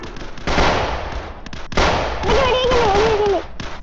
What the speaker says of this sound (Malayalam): വെടി വെക്കരുത്.